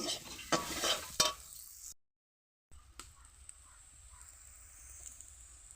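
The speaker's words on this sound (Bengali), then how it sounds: "চিংড়ি মাছ ভাজা একটু নেড়ে সেড়ে আমি নামিয়ে নেব" Fried prawns with taro are stirred in a pan, a few sharp scrapes and clinks over a light sizzle, then a brief silence and a quiet, faint hiss afterward.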